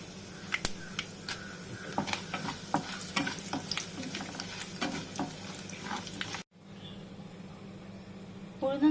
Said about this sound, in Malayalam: ഈ ഒരു പരുവത്തിൽ ഉഴുന്നുപരിപ്പിടാം. ഇത് നന്നായിട്ടൊന്ന് മൂത്ത് കഴിഞ്ഞിട്ട് നമുക്ക് ഉണക്കമുളക് ഇടാമേ.